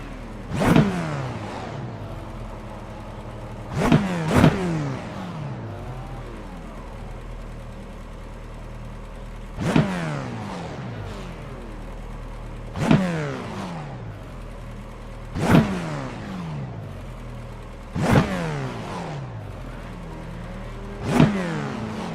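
Race car engines in a racing video game rev hard on the starting grid, with seven sharp, loud blips spaced a few seconds apart over a low steady idle, each burst quickly falling away.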